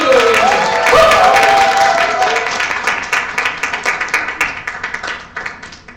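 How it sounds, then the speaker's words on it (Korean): A book concert crowd bursts into loud clapping and cheering, with shouts and whoops at first, then the applause thins into scattered claps that fade away. "중동을 좋아하는 분들 박수와 함성을 모셔보겠습니다"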